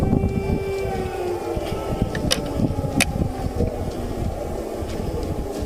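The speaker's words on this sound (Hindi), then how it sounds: "जरा आप ये एयर सायरन सुनिए," Air raid siren in Lviv, Ukraine, wails as a steady, distant tone across the city, partly masked by street and wind noise, with a couple of brief sharp clicks.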